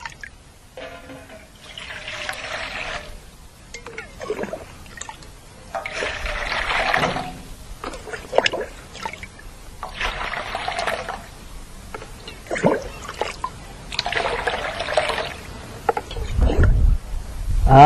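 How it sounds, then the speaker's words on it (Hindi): Water poured into a container to make a salt solution for treating paddy seed: bursts of splashing pour repeat in several spaced rounds, with trickling and faint handling noises between them. "अब हम एमेक पानी धरबो"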